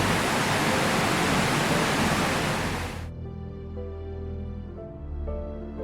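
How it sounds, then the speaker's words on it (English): The Yellow River roaring through Hukou waterfall, a dense, loud, broadband rush filling the first three seconds before cutting off abruptly into quieter background tones. "That is the angry, heavy breathing of the legendary Yellow River as it storms through Hukou."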